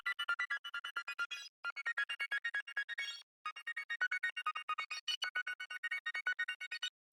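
A synth arpeggio from an Analog Lab preset plays on its own in rapid, evenly chopped bright notes, gated to the beat so each note cuts off sharply. It breaks briefly twice before resuming.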